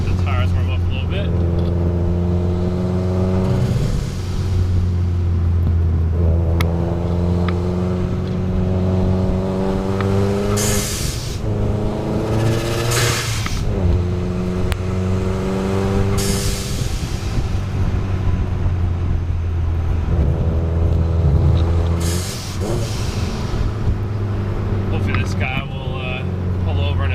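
A Subaru WRX drives along a canyon road, its engine droning steadily and then rising in pitch through repeated surges of acceleration. The engine stays loud and close throughout.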